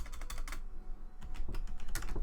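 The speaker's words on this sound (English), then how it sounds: "I will just type that as well" Typing on a computer keyboard, a close run of quick, uneven key clicks in bursts with a short pause near the middle, fairly soft, with no talking.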